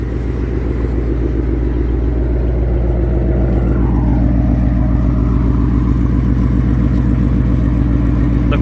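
Car engine with a Corsa Sport exhaust and Cobra Jet intake manifold, a deep steady rumble held loud and close for the whole stretch, with a slight rise in pitch midway and no voices.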